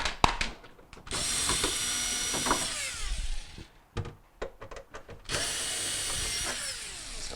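A power driver whirs in two long bursts with shorter spins and clicks between them, loosening screws from the evaporator cover inside a GE refrigerator, close and fairly loud with no voices.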